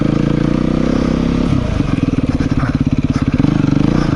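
A 2017 Beta 390RR dirt bike climbs a steep hill, its engine loud and close, holding a steady drone before settling into a rapid, choppy pulsing as the throttle works; no talk.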